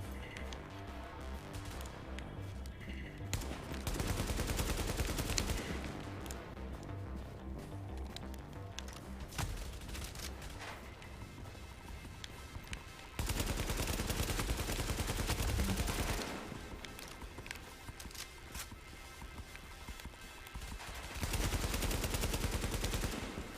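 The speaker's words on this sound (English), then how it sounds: "He's got a machine gun as well." Machine gun fire from The Division comes in sustained dense bursts, loud and close, separated by quieter stretches of lower rumble.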